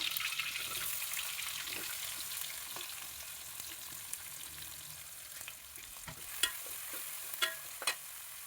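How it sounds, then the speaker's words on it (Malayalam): Chopped onions frying in oil in a pan for Kerala-style chicken roast, a soft, steady hiss with a few faint clicks of stirring near the end, quiet and without voices. "ഇനി ഒരു പാൻ അടുപ്പത്തേക്ക് വയ്ക്കുക. അതിലേക്ക് ഓയിൽ ഒഴിച്ച് കൊടുക്കാം. 2-3 സവാള അരിഞ്ഞത് ഇട്ട് കൊടുക്കുക."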